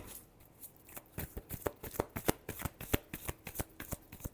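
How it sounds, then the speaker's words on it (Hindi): Tarot cards being shuffled by hand, a steady run of quick riffling flutters and soft slaps, close and clear with no voices. "लिब्रा के लिए लास्ट शफल।"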